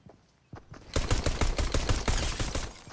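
Rapid gunfire from a Fortnite match bursts in after a brief quiet start, a dense run of loud, close shots that keeps going to the end.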